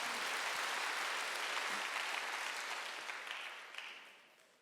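A church congregation at a Wednesday worship service breaks into a steady wash of applause that fades out gradually, somewhat distant and soft.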